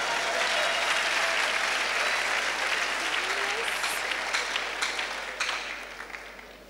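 An audience at a church gathering claps for the interpreter, a loud, dense burst of applause that holds steady and then thins out toward the end, with some voices mixed in.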